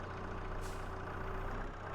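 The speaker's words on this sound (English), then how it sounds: "You could use this as a tractor ASMR if you really wanted to" A tractor engine in Farming Simulator 22 runs in a steady, loud, low drone with no break. A brief hiss comes partway through.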